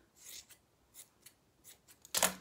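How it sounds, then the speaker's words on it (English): Scissors snip through yarn tassel ends on a card in a handful of quiet, quick cuts. A louder final snip closes the sequence, with no voices. "Now you need to cut the ends of your tassel off the card."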